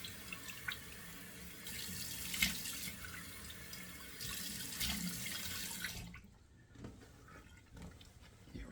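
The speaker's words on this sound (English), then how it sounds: "So I'm just running the water cold in the tap here." Cold water runs steadily from a bathroom tap into a sink, a soft continuous splashing hiss that stops abruptly near the end, leaving quieter room tone with faint drips.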